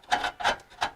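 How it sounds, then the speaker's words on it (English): Scraping grease off a part from an 8.2 ten-bolt Eaton posi axle in a '37 Ford truck: three close, rasping strokes in an even rhythm, each a short gritty rub. "So we scrape it off."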